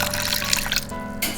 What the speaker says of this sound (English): Then I'm gonna put some water in here.